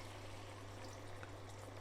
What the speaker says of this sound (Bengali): এখন আমি এটার মধ্যে কিছুটা ঝোল দিয়ে দিব,